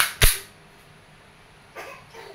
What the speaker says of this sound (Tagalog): Sir Alan, testing of your Glock 17 Gen 5 by WE brand. Made in Taiwan